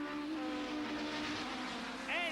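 A Peugeot 405 Mi16 race car heard from inside the cockpit at Donington, its engine droning loud and steady at high revs. A brief rising whine comes near the end.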